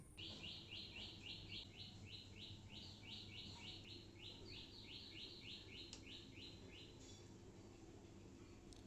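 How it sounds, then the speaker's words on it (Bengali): Birds sing beside a house, a faint repeated chirping phrase in rapid bursts over a quiet background for several seconds, then trailing off. "আমাদের বাড়ির পাশে পাখি কত সুন্দর করে ডাকছে"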